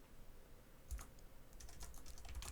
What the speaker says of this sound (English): I'm kind of speaking to you as I'm typing this